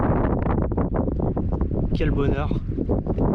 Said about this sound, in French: Le vent est enfin en train de se calmer.